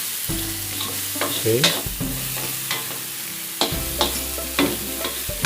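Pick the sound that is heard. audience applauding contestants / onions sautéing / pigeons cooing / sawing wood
onions sautéing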